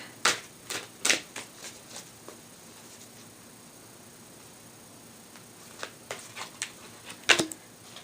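Oracle cards from a Healing Energy deck by Leanne Peters are shuffled and handled, soft papery riffles and taps clustering near the start and again toward the end, with a quieter stretch between.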